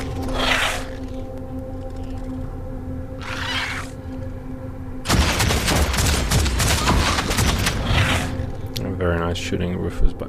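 A dense burst of rapid gunfire from the Warhammer 40k: Deathwatch video game runs for a few seconds in the middle, set among game voices and quieter stretches.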